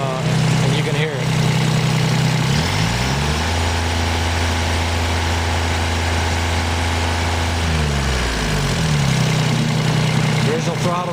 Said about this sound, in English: There, how smooth it idles down.